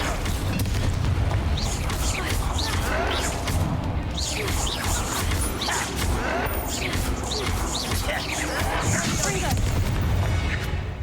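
Confringo blasting spell explosions in Hogwarts Legacy: a dense, loud, continuous run of booms, crashes and whooshing bursts with crackling debris, filling the whole stretch with no pause.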